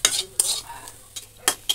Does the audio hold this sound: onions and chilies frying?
yes